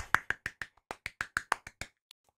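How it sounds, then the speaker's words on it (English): Bare hands clap about a dozen times in a quick, even rhythm, close and crisp, followed by a couple of fainter trailing taps. "Be happy. Clap it up."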